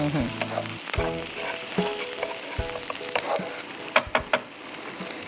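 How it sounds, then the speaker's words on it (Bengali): Chopped onions frying in mustard oil with a little salt for beef kala bhuna, a steady sizzle with clattering stirs and a few sharper scrapes near the end. "পেঁয়াজগুলো একটু লাল লাল করে ভেজে নিতে হবে"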